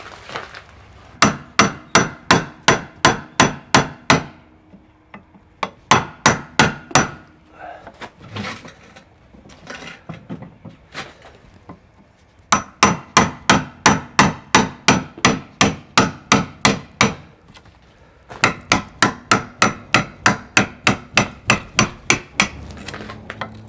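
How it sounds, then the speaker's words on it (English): Steel chisel struck repeatedly against an Osage orange selfbow stave, sharp rhythmic taps in fast bursts of about a dozen blows each, separated by short pauses with quieter scraping between runs. "easiest way I've found is with a chisel"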